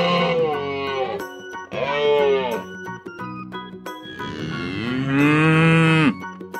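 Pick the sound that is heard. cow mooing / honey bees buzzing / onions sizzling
cow mooing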